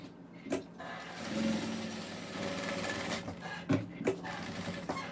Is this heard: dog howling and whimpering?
no